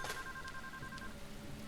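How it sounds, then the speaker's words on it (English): A telephone ringing in the video game Deadly Premonition, a faint warbling ring in two steady tones that repeats briefly under a low background hum. "A phone."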